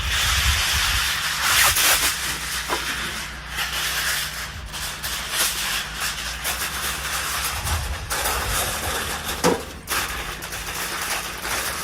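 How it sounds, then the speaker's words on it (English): Continuous crinkling and rustling of heavy-duty aluminum foil, close and fairly loud, with sharper crackles scattered throughout and no speech. "we're actually going to make a liner out of some heavy-duty aluminum foil"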